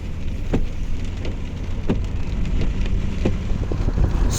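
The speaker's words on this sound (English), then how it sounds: "a little bit of rain doesn't stop that." Rain falling during a road trip from Melbourne to Canberra in Australia, a steady patter on the car mixed with low road and engine rumble, with scattered louder drops throughout.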